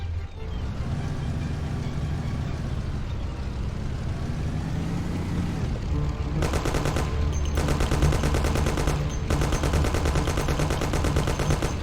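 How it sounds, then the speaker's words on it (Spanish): Thompson submachine gun fire in a Mafia-style crime video game, bursting in sustained rapid volleys over a rumbling engine and ambient game sound, loud and close, with brief pauses between bursts. "Toma mi Thompson. Tú y Sam disparad."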